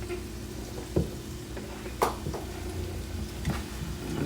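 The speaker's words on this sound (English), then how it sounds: "saute everything up all nice and neat" Oxtail vegetables sauté in a hot pan, a steady close sizzle punctuated by a few sharp clatters and stirring knocks.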